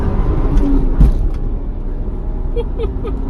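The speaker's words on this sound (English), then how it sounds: "And now I'm flooring it." A 1994 Toyota Supra Mark IV Turbo on a highway on-ramp at full throttle gives a loud, steady engine roar and road rumble with a few brief whines and clicks.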